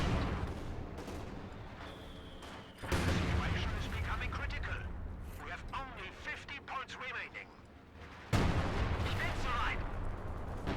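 A Panzerwerfer rocket artillery barrage in the strategy game Company of Heroes 2, with a steady roar of distant launches and impacts and louder surges near the 3 and 8.5 second marks. A commentator talks over it throughout.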